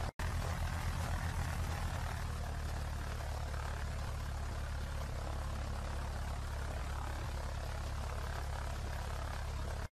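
Piper Seminole PA-44-180 twin-engine aircraft starting up and settling into a loud, steady engine and propeller roar at close range, with no speech.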